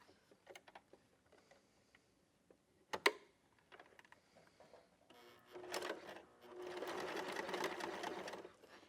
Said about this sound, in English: all we're going to do is sew a straight seam all the way down